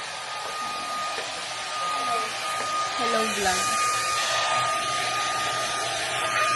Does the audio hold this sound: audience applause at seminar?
no